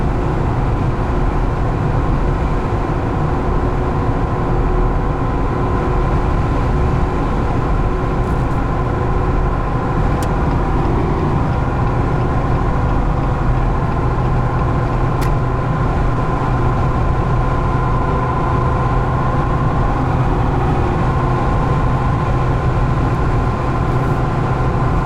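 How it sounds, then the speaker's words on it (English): Steady broadband road roar from a 2020 Jeep Gladiator Rubicon on big off-road tires at highway speed, with wind rushing over the cab, constant and loud for the whole stretch with no talking. "On the highway, a little bit of wind noise. Big off-road tires are going to be a little bit noisy."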